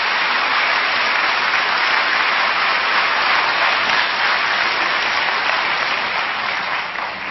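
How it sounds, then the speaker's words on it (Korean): Congregation at a Korean early-morning church prayer service breaks into steady, dense applause, a sustained wash of many hands clapping that holds evenly for about seven seconds before tapering at the very end, with no voices over it. "다시 한번 큰 박수로 축복하겠습니다"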